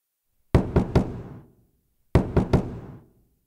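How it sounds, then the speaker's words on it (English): Two loud, close sets of three quick raps on a cowshed door, separated by a brief pause, each knock ringing out sharply against silence. "That door is about to break from your knocking."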